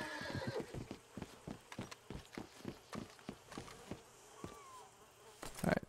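A horse in Red Dead Redemption 2 whinnies near the end after a run of soft, regular hoof clops, with buzzing flies and insects around it in a quiet outdoor setting.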